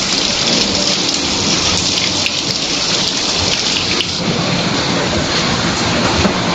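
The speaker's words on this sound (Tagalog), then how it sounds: "At grabe din ang ulan dito." Heavy rain pours down in a dense, steady hiss, loud and close, with no pauses or voices.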